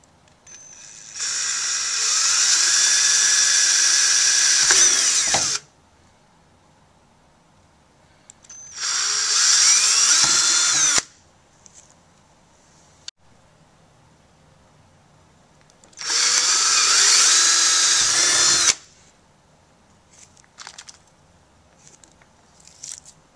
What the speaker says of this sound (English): Now that the locations are marked, you can drill the holes.